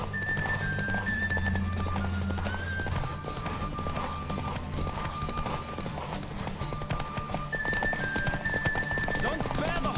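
Horse hooves clip-clop at a gallop in The Witcher 3 next-gen edition, a steady rapid rhythm beneath game music and tonal hums, with a voice speaking over the ride.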